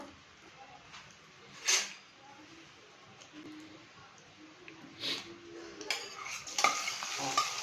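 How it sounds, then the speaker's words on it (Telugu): Onion and green chillies with mustard seeds in hot oil: a soft quiet sizzle with several sharp stirring scrapes and clinks of a utensil against the pan, close by, no talk. "ఆవాలు వేసేసి అది కొంచెం రోస్ట్ కాగానే ఫస్ట్ నేను ఆనియన్ ఇంకా గ్రీన్ చిల్లీస్ వేస్తాను"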